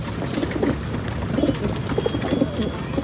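Several Sarangpuri pigeons cooing repeatedly, soft throaty calls overlapping close by, with a faint background hum and scattered rustling.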